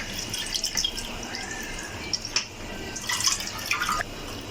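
Water is drained off kneaded flour dough, making close splashes, trickles and scattered drips that come in uneven bursts and then stop short near the end, with no voices.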